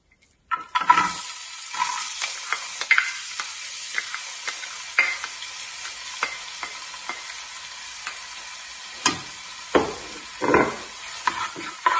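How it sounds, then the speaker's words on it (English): Onion and red pepper sauté in hot oil for a tomato sauce: a sizzle bursts in at the start and stays steady and close, broken by repeated spatula scrapes and pan knocks. "Now we're just going to saute the onion along with the red pepper."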